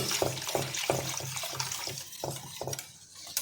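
About one and a half glasses of water splash and trickle into a bowl for Rajasthani Marwadi kadhi, mixed with soft clinks and scraping, a steady wet sound with a few louder bursts.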